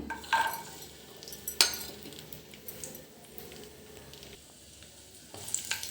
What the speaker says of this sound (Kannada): ಎರಡು ಸ್ಪೂನು ತುಪ್ಪ ಹಾಕ್ಕೊಳ್ತಾ ಇದ್ದೀನಿ ನೋಡ್ಬೋದು ಇದಕ್ಕೆ ಈಗ ಗೋಡಂಬಿ ದ್ರಾಕ್ಷಿ ಹಾಕ್ಕೊಳ್ತಾ ಇದ್ದೀನಿ